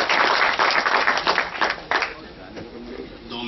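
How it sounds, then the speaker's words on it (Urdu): An audience at a mushaira poetry gathering in Delhi breaks into loud, sustained applause to welcome a young poet, with scattered voices mixed into the clapping. "آپ حضرات تالیوں سے خیر مقدم کیجیے نوجوان شاعر"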